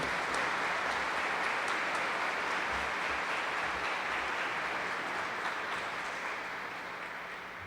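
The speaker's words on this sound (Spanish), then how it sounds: "Damos un aplauso de bienvenida a nuestro obispo" A congregation at an early morning novena Mass claps to welcome the bishop, a broad, even wash of applause that holds steady and then gradually fades toward the end.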